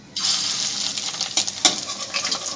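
Fish roe fritters dropped into hot oil, a sudden loud sizzle that settles into steady close frying with small crackles and pops.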